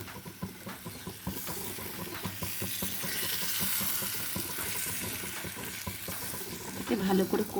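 About 750 g of chicken sizzles and fries in a pan while being stirred steadily, with repeated scraping clinks close by throughout and no talking.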